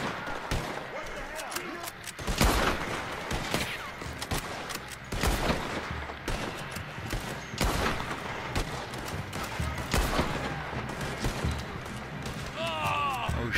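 Rapid gunfire in the Red Dead Online video game, a burst of overlapping shots and bangs that keeps going through the scene, with players talking over the shooting.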